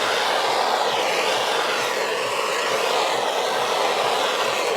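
A heat tool blows hot air over fluid acrylic paint, giving a constant, loud, breathy whoosh like a hair dryer that runs unbroken, with no voices.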